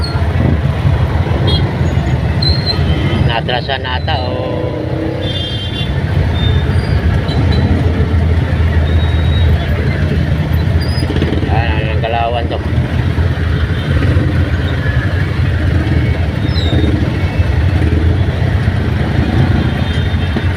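Steady roadway traffic noise with passing vehicles at a jeep and van accident scene in Mamatid, continuous and fairly loud throughout, with someone talking over it.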